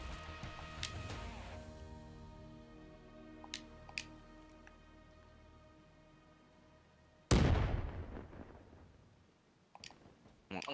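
A grenade blast in Black Ops 3 game audio, a heavy booming burst after scattered clicks and tonal game sounds, fading slowly, with a faint pop near the end.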